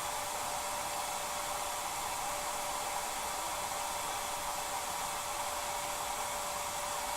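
A hair dryer blows steadily to dry salt-chipped paint, a constant, even airy whoosh held at one level with no pauses or talk.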